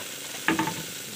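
Food sautéing in a pan with a steady sizzle throughout, broken by a couple of brief, sharp stirring scrapes near the middle; close and moderately loud, with no talking.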